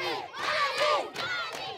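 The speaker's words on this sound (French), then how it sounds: "Une foule en liesse accueille les soldats français en libérateurs." A jubilant crowd in Mali greets French soldiers of Operation Serval as liberators, loud massed cheering and shouting voices rising and falling in overlapping waves, close and continuous.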